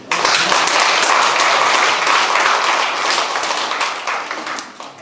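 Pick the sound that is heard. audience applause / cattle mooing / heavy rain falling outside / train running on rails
audience applause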